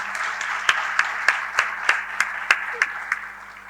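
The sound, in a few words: audience applause for Corona warriors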